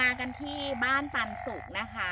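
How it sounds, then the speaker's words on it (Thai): Frog or toad croaking at night outside a rainy-season homestay in Sapan, Nan, Thailand: a steady, pulsing croak runs close and continuous beneath someone talking. "ตอนนี้คือเสียงกบหรืออึ่งอ่างร้องก็ไม่รู้นะ"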